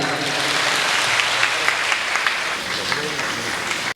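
An audience at a Hindi comic poetry gathering, a kavi sammelan, breaks into dense, sustained applause that fills the whole stretch, with some voices faintly mixed in.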